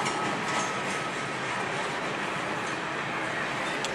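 Canadian Pacific freight train of boxcars passing close by, a steady dense roar of wheels and rattling cars with faint rhythmic clatter and no pauses throughout.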